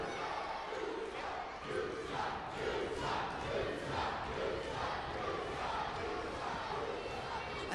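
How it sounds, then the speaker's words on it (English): A wrestling crowd chants and roars in a rhythmic, pulsing wave at an independent show, dense and continuous with faint speech mixed in. "this crowd is letting Team WXW know exactly how they feel"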